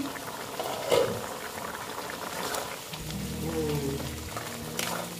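Squash and potatoes simmering in a covered pot, a soft steady bubbling with a lid rattle near the start, while someone talks over it for most of the stretch.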